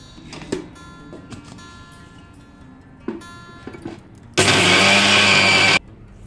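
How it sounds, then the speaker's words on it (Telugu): A few scattered clicks and knocks, then a loud, steady whir of a mixer grinder grinding sugar into powder for about a second and a half before cutting off. "చక్కెర తీసుకొని దీన్ని కూడా మిక్సీ పట్టుకోవాలి"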